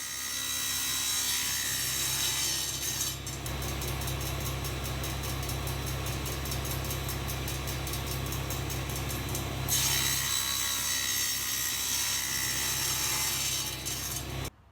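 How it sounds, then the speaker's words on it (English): Wooden boards for a drill press vice are crosscut to 225 mm on a table saw crosscut sled against a stop block; a steady saw drone rises into a loud cutting rasp for several seconds, then falls back to running. "cutting them to length at 225mm using a stop block on the crosscut sled."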